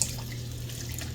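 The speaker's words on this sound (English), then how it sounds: "Plain old cold water to add to this cup and a half of flour." Cold tap water pours steadily into a cup and a half of flour for a brief, unbroken stretch of running liquid at moderate volume, with a low background hum.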